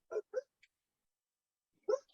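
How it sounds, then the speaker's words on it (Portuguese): A dog barks faintly in the background during an online meeting, two quick barks close together followed by a pause and another single bark. "Que tem um cachorro latindo no fundo."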